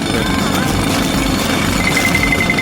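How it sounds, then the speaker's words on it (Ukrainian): Loud, continuous pounding rumble of a jackhammer, steady and close, with a constant dense noise throughout. "У цьому мені допоможе відбійний молоток."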